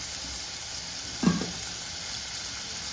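Tomatoes sauté in a pan for a Kerala-style tomato curd curry, a continuous gentle sizzle holding throughout with one brief soft knock of a stirring spoon partway through, with no talking.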